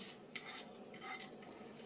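A spoon stirs sautéed onions and garlic into a pot with soft scraping and light clinks over a faint background sizzle, quiet and close, with no voices.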